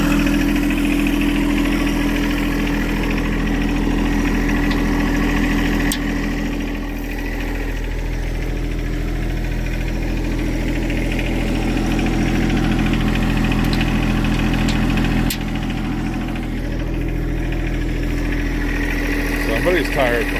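A tractor engine idles on a ranch, a steady, close low drone with a rough, knocking pulse that holds unchanged for the whole stretch, with muffled voices now and then.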